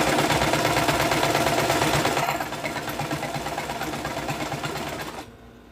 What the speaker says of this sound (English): There's gonna be like a lot of sewing machine ASMR, just that chuk chuk chuk chuk chuk.